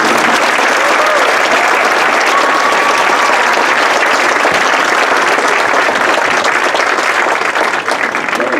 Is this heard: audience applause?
yes